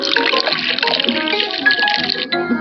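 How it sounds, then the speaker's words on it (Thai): Water splashes and gurgles steadily as it is poured into a pot of sugar to make a syrup for tanghulu candied fruit. The pour is close and constant, with a brief change near the end and no voices. "เสร็จแล้วเทน้ำ"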